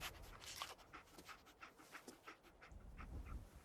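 The dog companion in the video game Fallout 4 pants steadily in quick, soft rhythmic breaths, faint and close, with a brief whimpering edge as it follows a scent in survival mode.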